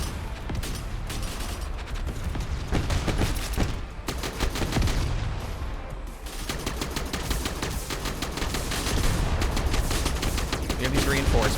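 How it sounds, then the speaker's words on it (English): Sustained rapid machine gun fire from the mech combat video game Mech Havoc, dense rattling bursts running almost continuously over a rumbling battle background, with a voice talking now and then. "He's got that machine gun, which is gonna be really awful for us."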